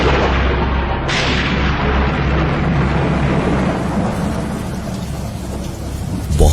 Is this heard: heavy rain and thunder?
yes